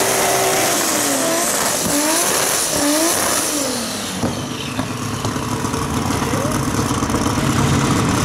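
Opala race cars at a drag race roar loudly as their engines rev, with a brief tire squeal and rising engine pitch as they launch hard and pull away, all continuous and close.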